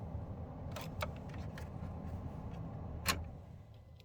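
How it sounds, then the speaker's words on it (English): Grid heater relays on a 1st gen Cummins truck click several times during startup, with a few sharp ticks standing out over a quiet low hum from the cab. "I can hear my grid heater relays, so I know that's working."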